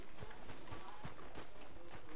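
Horse hooves clip-clop at a steady trotting rhythm in Red Dead Redemption 2, set against a constant dense outdoor ambience with no speech.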